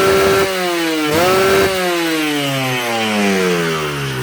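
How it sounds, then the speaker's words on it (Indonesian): A two-stroke Kawasaki Ninja with a freshly built cylinder block revs hard in repeated bursts, its loud, buzzy note climbing and dipping in pitch as the throttle is worked, with no voices over it. "Saya geber sampai limit"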